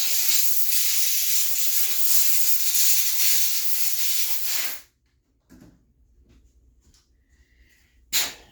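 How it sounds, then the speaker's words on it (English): A can of compressed air sprays onto a Novarossi Gimar P5 .21 nitro engine, a loud continuous hiss for nearly five seconds that stops abruptly, followed by faint handling noises and a second short hissy burst near the end. "Give her another spray with the compressed air."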